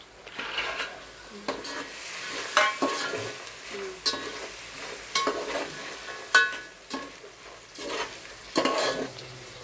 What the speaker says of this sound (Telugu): బాగా వాసన అంతా వెళ్ళిపోయేంత వరకు మిక్స్ చేసుకొని ఫ్రై చేసుకుందాం